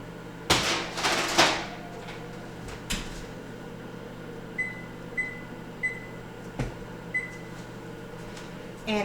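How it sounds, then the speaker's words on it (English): Chocolate chip cookies go into a home oven: a couple of loud rattling clatters and a door thud near the start, then a few beeps from the oven panel over a steady low hum. "But I can go ahead and put the chocolate chip cookies in the oven."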